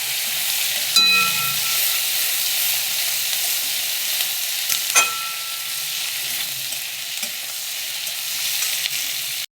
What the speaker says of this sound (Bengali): এবারে আমি কেটে রাখা পেঁয়াজ দিয়ে দেবো। পেঁয়াজটাকে দিয়ে আমি একটু লাল করব।